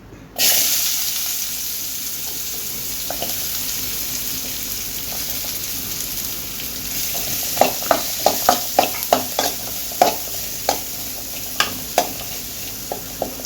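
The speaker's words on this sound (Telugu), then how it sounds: "ఇప్పుడు ఇందులో ఉల్లిపాయలు వేసుకుందాము చిన్న ముక్కలు కట్ చేసిన ఉల్లిపాయలు" Small-cut chopped onions hit hot oil for an egg and urad-dal vadiyalu masala curry, a steady close sizzle and hiss that continues under a run of sharp spatula clinks and scrapes against the pan.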